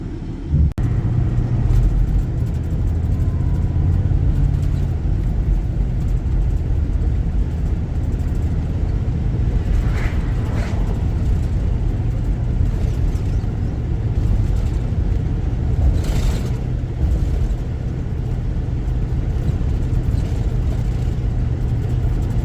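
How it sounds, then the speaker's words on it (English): A car on a rural road during an extended test drive after new shift solenoids were fitted, a steady low engine and tire rumble heard from inside the cabin, continuous and even throughout with faint occasional higher tones. "We've been driving around today after putting the shift solenoids in it yesterday."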